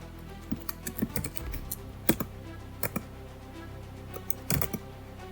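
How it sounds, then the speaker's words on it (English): Keys clatter on a computer keyboard while a command is typed into a terminal during a HackTheBox exercise, with irregular bursts of clicks and short pauses between them, heard close and alone. "Make sure to type it correctly."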